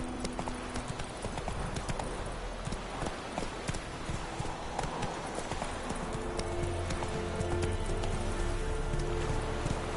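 Roach, a horse in The Witcher 3 played on PS4, gallops with a fast, continuous run of hoofbeats that builds slightly louder toward the end, under a dense game soundscape.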